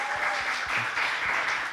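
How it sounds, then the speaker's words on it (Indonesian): Applause from a church youth-service congregation, a steady, dense patter of clapping heard close and fairly loud, without talk over it. "tepuk tangan dulu dong"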